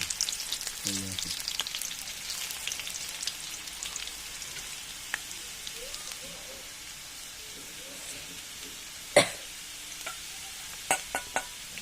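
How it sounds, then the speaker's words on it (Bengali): Dried onions fry with dried red chillies in a hot pan, giving a steady, gentle sizzle with scattered crackles and a few sharp clinks of a stirring utensil near the end. "শুকনো পেঁয়াজ পেঁয়াজগুলো ভালো মতন ভাজা হয়ে গেছে"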